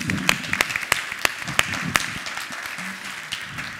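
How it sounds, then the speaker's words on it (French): Audience at a conference keynote applauding Thomas, a dense steady patter of many hands clapping with sharper individual claps punctuating it, fairly close and loud throughout. "Il faut en profiter pour applaudir Thomas"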